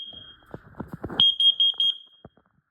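A smoke alarm beeps loudly in a rapid series of about six short chirps during a home system test of smoke and CO alarms, after an earlier softer tone and some handling noise.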